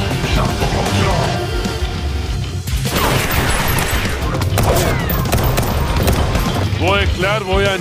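Anime gunfire rattles in a loud burst alongside crashes and impacts. Dramatic music and voices run underneath.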